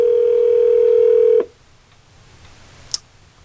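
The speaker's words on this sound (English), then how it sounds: "So if I wanted to dial an extension," A Polycom 8510T ISDN conference phone gives a loud steady dial tone that cuts off abruptly, followed after a pause by a single short touch-tone key beep while an extension is dialed, in an otherwise quiet room.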